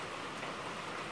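Heavy rain pouring down steadily at a rural farm, a dense, even hiss with no breaks, heard alone without voices.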